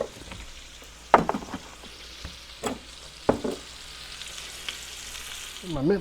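Stir-fry crackles and sizzles in a cheap Walmart wok, with a continuous hiss broken by several sharp spatters and clatters as the food is stirred.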